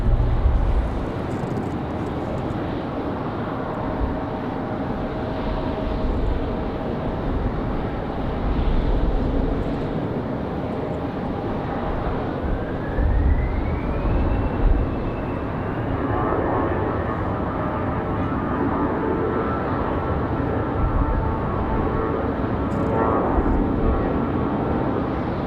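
Endeavor CRJ jet taking off from runway 5 left at Raleigh-Durham on a windy day, a distant broad engine roar that builds and rises in pitch as it spools up and departs, with wind buffeting the microphone.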